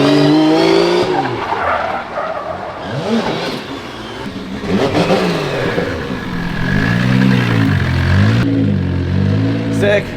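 A tuned, built 2JZ engine revs hard on a dyno, loud rising and falling wails with sweeping pitch changes, while people talk and exclaim over the roar.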